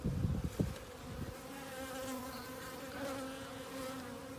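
Dense buzzing of honey bees inside a hive opened for inspection, a steady continuous drone close by, with a few louder bumps and rustles at the start and no talking.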